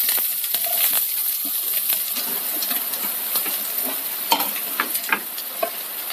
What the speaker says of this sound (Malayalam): ചൂടായ എണ്ണയിലേക്ക് നമ്മൾ മാറ്റി വെച്ചിരുന്ന സവാള ചേർക്കാം.